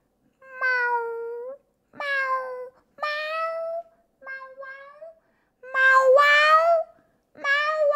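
Cats meowing repeatedly, with six loud, drawn-out meows close by, each about a second long and separated by short silences.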